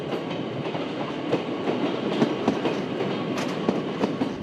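A Mont-Blanc rack train rolling along its rails, a steady near rumble with repeated clickety-clack wheel beats over the track joints, continuous and fairly loud with no talk.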